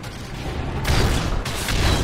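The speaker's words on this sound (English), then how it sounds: "Predator missile inbound." A Predator missile strike explodes in Call of Duty Modern Warfare 3, with two loud, close booming bursts rolling into a sustained roar.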